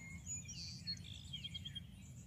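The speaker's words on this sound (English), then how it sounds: "All the birds are happy." Birds chirp and sing outdoors on a hot, humid day, a scatter of faint high calls over a steady low background hum with no talking.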